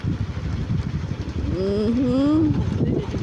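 A motorcycle engine runs with a rough, low chug before revving up in a rising, whining pitch that lasts about a second, heard close by outdoors.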